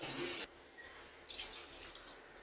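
Water is poured from a tumbler into a pan for semiya payasam, a short splashing rush followed by a second, quieter burst of pouring and dripping, faint and close.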